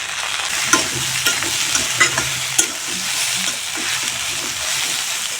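Spices and cut potatoes stirred in a pan of frying fish oil, the bhindi fry's steady sizzle running throughout with scattered spoon scrapes and clicks close up.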